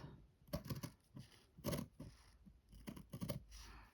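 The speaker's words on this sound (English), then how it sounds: "I'm just going to cut it with my proper scissors" Scissors snip through fabric in three bursts of crisp, close cuts, each a quick cluster of slicing snips with short pauses between.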